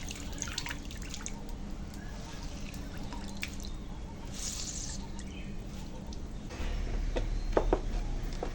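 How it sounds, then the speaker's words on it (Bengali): Washed gourd leaves are squeezed by hand, and water drips and trickles out in scattered drops, growing heavier toward the end. "এরকম চেপে চেপে জলটা সব বার করে ফেলে দিচ্ছি"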